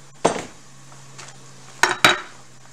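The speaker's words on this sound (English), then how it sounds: "I'm going to put the rest of the cabbage in there" Chopped cabbage goes into a cooking pot for a cube steak and cabbage stew: a soft rustle followed by two sharp clanks against the pot, close and clear, with no talking.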